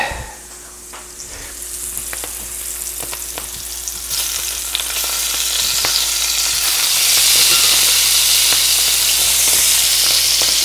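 Steady close sizzling of halloumi cheese frying in a hot pan under a splatter screen, growing louder and more intense, with occasional faint clicks and crackles.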